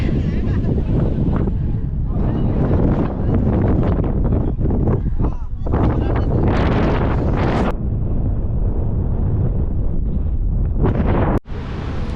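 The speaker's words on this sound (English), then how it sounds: "We made it to the top, but it's so windy." Strong wind buffets the microphone in a loud, constant roar at a high viewpoint in Munich, with brief gusts and a voice heard faintly through it.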